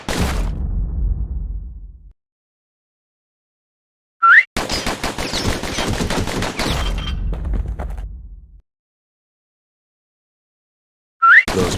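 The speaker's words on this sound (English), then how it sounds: "Those pistols could spit out rounds just as quick as you could pull the trigger." Rapid pistol gunfire in the action game Bastion, dense bursts of quick shots in two long volleys separated by silence, with short bright whooshing effects between them.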